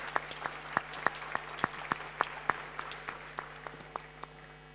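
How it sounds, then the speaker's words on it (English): A small group at a startup demo day claps sparsely, with about a dozen distinct hand claps in an uneven rhythm that thins and fades as the applause dies out, over a faint steady hum. "Have a round of applause."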